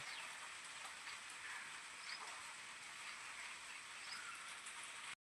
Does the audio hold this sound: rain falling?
yes